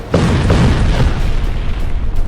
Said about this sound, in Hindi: ऐसे कपा देने वाला ब्लास्ट